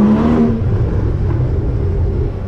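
A car engine rumbles and revs close by, its deep growl echoing off surrounding buildings before gradually easing down; loud and continuous, with no voices.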